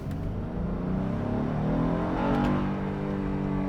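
The 3.5-liter V6 of a Honda Passport TrailSport revs up under hard acceleration, with engine pitch climbing steadily through the gear, heard from inside the cabin, loud and continuous with no talk.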